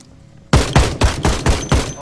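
Gunfire in the Project Zomboid video game comes as a loud, close burst of about six sharp shots in quick rhythm after a short quiet start.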